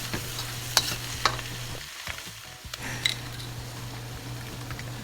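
Peas are stirred into fried rice sizzling in a pan, a steady frying hiss with a few spoon scrapes and clinks against the pan, close and constant.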